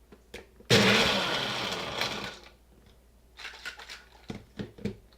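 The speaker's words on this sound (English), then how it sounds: "here they are going in the NutriBullet" A NutriBullet blender grinding deep-fry squash into breadcrumbs, starting abruptly with a loud whirring burst that lasts about two seconds and fades, followed by scattered clicks and rattles as the container is handled.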